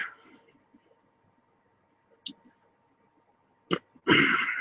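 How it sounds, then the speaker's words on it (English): Short, quiet burps break a mostly silent stretch, a few faint gulps followed by a louder, sharper one and a closing burst near the end. "So I keep burping."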